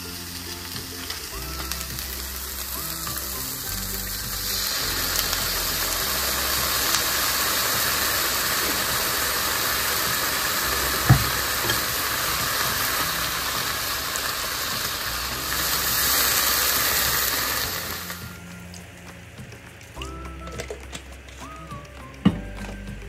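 Spam fries in a pan with low sodium shoyu give a steady, loud, close sizzle that lasts about eighteen seconds, then drops to quieter crackling with occasional clinks of a utensil.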